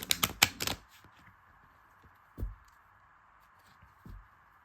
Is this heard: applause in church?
no